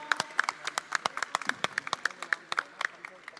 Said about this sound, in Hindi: जोरदार तालियां, everybody,